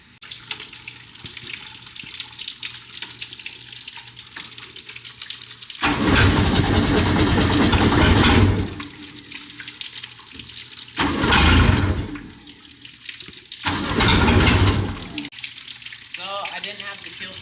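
A Mercruiser 3.0 boat engine with the water supply hooked up cranks in a few loud bursts, each lasting a couple of seconds, separated by quieter stretches of running water.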